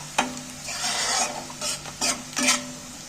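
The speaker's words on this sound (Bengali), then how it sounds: "তেলের মধ্যে নাড়াচাড়া করতে করতে অনেকটাই কিন্তু ভাজা ভাজা হয়ে যাচ্ছে" Food being stirred in hot oil while frying, before ginger-garlic paste goes in, for an egg and gram-flour dish: a steady sizzle with repeated scraping stirs, close and fairly loud, no talking.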